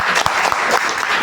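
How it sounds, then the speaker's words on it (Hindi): An audience at a wellness seminar breaks into dense, loud clapping that fills the whole moment, with no voices over it. "एक बार ताली बजानी चाहिए"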